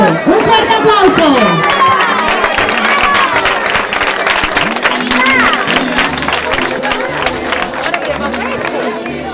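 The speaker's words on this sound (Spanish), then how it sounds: "Un fuerte aplauso." A crowd applauds the race winners at an outdoor award ceremony for the San Roque fair popular races, a loud, steady wash of clapping mixed with cheering and chatter throughout.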